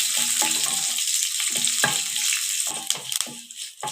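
A tempering of chana dal, red chillies and curry leaves fries in hot oil, with a steady crackling sizzle and several sharp stirring scrapes close by, and no talk.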